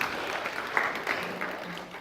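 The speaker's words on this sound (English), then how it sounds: "Let's give Will a round of applause." Audience applause rings out at a county budget presentation, a brief, dense wash of clapping from a room of people, steady and fairly close.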